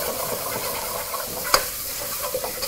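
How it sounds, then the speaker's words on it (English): Garlic fries in oil with a steady, close sizzle while a wooden spoon stirs it in circles, giving a soft scraping sound and one sharp knock against the pan. "to mix your garlic in a circular motion. And cook this right until you actually notice that the garlic just begins to turn into a nice golden brown color."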